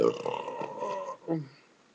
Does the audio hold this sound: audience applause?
no